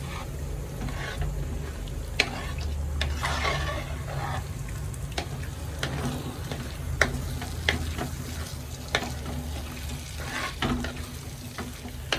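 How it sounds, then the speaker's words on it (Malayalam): Kinnathappam batter being stirred in a pot with a quarter cup of coconut oil added, giving a steady low churning swish with scattered clicks of the spoon against the pan, close and continuous with no talk. "കാൽ കപ്പ് വെളിച്ചെണ്ണയും കൂടെ ഒഴിച്ചു കൊടുത്തു നന്നായിട്ട് ഇളക്കി കൊടുക്കാം"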